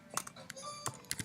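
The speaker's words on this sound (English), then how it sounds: "So you'll just type that in." Keys tapped on a computer keyboard while an assignment name is entered into a gradebook: a short run of light, quiet, uneven clicks, close by, with soft pauses between strokes.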